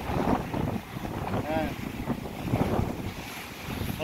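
Strong typhoon wind roars and buffets the microphone while big waves crash and surge at sea, a loud, turbulent wash with a voice speaking briefly over the noise.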